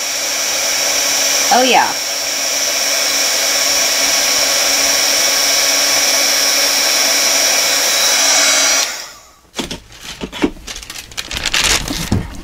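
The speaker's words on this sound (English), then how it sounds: "I'm gonna hit it with a heat tool here." A heat tool blows hot air over a mixed media photo folio, a steady loud whooshing roar lasting about nine seconds before cutting off into a few faint handling clicks. A voice is briefly heard early on.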